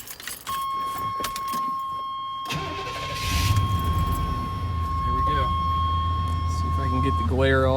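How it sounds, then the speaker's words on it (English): Keys jingle and a 1990 Chevy Silverado's 350 V8 with about 43,300 original miles cranks over while a steady warning chime sounds. The engine catches and settles into a low idle, and someone talks at the start and end. "And this starts the engine."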